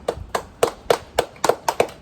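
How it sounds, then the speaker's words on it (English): Sparse, sharp handclaps from a small group, about eight distinct claps in an uneven rhythm, close and clear with no talking. "Now, let us have applause."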